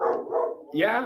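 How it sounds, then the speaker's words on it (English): A dog barks indoors during a live stream, a few rough yips close by, overlapping a person's speech. "Sorry about the dog barking."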